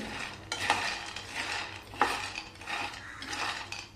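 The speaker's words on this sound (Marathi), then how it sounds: "असे चटचट वाजायला लागलेले असेच भाजायचे म्हणजे साल लगेचच निघतं." Peanuts dry-roast in a pan over a medium gas flame, giving faint, scattered crackles and light scraping clicks from stirring, quiet and close with no talking.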